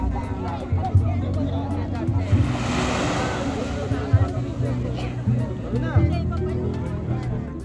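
Sea waves wash steadily onto the shore at a beach resort, a continuous broad surf roar with soft swells, while people talk in the background.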